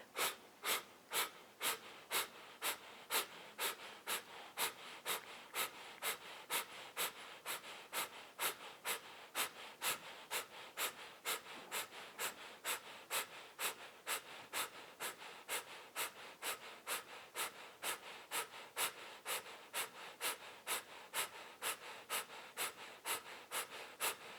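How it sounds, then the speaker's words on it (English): During a yoga flow, a person breathes in a rapid, strictly regular rhythm of short forceful breaths, roughly two per second, repeated for over twenty seconds. The breathing is faint and close. "Take a deep breath in. Starting as you exhale."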